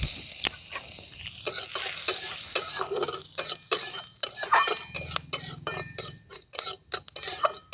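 Whole mustard seeds fry in oil in a kadai for tempering, giving a close crackling sizzle with frequent sharp stirring clatters of a metal spoon against the pan and no voices.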